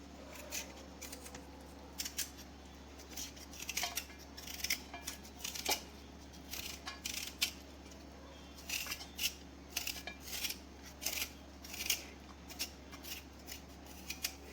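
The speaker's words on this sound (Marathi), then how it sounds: "आता या बटाट्यांच्या आपण स्क्रॅपरच्या साहाय्याने साली काढूया." Thin-skinned, freshly washed potatoes being peeled with a hand scraper, giving a steady run of short, dry scratching strokes, close and fairly quiet, with no talking.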